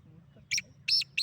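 A female black francolin gives three short, harsh, bright call notes in quick succession, close and clear over a low background hum.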